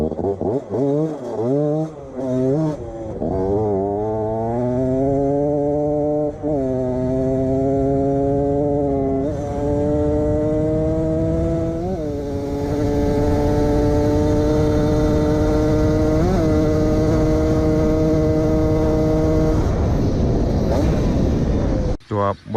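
Honda Beat 110 scooter converted into a dirt bike, with its original stock engine, revving near the microphone; the engine pitch rises in repeated surges and then holds at steady high revs, and a voice is heard speaking at times.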